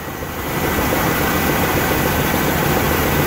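A 1998 Buick Park Avenue with about 202k miles sits idling, giving a steady, even low rumble with constant loudness and no voices over it.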